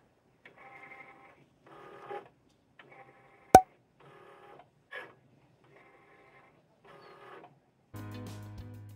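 A Cricut cutting machine works through a glossy sticker sheet in repeated short mechanical bursts of whirring and chattering, with one sharp loud click in the middle and a heavier grinding rumble at the end, all close up.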